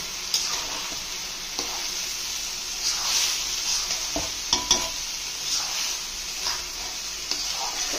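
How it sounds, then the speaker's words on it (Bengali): Grains of raw aromatic rice sizzle and crackle in hot oil while a utensil scrapes and stirs them at irregular intervals, close up and continuous. "এখন নেড়ে চেড়ে উল্টিয়ে পাল্টিয়ে নেব।"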